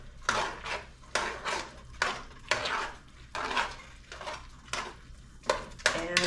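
Peas and carrots stirred into a pot of homemade dog food, with repeated rhythmic scrapes and clinks of a spoon against the pot, loud and close, plus a little speech at the end.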